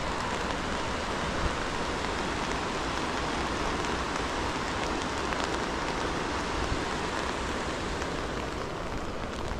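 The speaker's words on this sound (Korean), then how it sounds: "아, 좀 비가 끝났으면 좋겠다." Steady outdoor rainfall beside a river that splits into two channels, a dense, even hiss of drops that holds at a constant level for the whole stretch with no voices.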